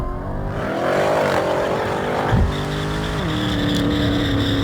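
Two cars, a Golf R and a Porsche, launching off the line in a drag race: a loud sustained engine roar with rising revs and gear changes, one engine note climbing steadily then settling into a high steady whine.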